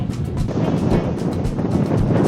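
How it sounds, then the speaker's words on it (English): Strong wind on New Zealand's west coast buffets the microphone in a steady, loud roar of low rumbling gusts, with no voices. "Very, very windy."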